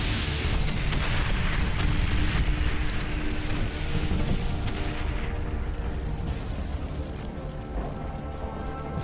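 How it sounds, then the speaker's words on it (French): Artillery shells burst one after another in the World War One video game Soldats Inconnus, a dense, loud rumble of blasts and crashes running throughout. "Tu les vois pas arriver, ces putains d'obus, là."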